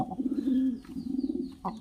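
Two pigeons give a soft, close, rolling coo, one low throaty phrase followed by another, with a faint brief rustle near the end.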